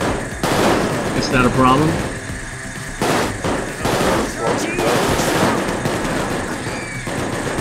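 Dense bursts of automatic gunfire from the video game Payday 2 rattle on and off throughout, loud and close, with a person's voice cutting in briefly over the shooting.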